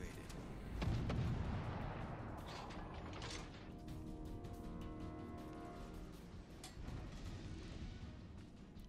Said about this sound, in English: That rear gun's taking forever to swing around.